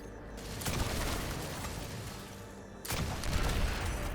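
Turret in a Bungie shooter game firing in sustained bursts, a dense roaring stream of rapid shots that cuts out briefly before resuming just as loud, fairly close.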